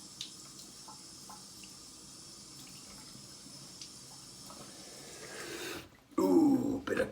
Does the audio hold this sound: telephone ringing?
no